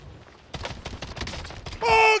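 Gunfire rattles in the video game Warzone, a burst of rapid crackling shots over about a second and a half, then a brief loud tonal burst at the end; a faint voice is just audible under it.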